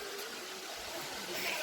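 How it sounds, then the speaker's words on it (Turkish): The Uçansu waterfall near Antalya pours steadily, a dense, even roar of rushing water that fills the whole moment without pause. "işte akan yer. Uçan su. Akan su şelalesi."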